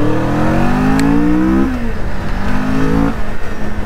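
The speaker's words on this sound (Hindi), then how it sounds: "I am used to riding super bikes, उसके बाद मैं इतनी लो बाइक राइड कर रहा हूँ, क्रूजर बाइक" Kawasaki Vulcan cruiser motorcycle, a 61 BHP engine, revving hard while riding, loud and near, with rising pitch, a gear change and another climb.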